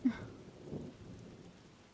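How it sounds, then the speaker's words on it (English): A low rumble of thunder rolls under faint rain hiss in the video game Trash Goblin, swelling briefly and fading, fairly quiet overall. "That thunder is definitely too loud."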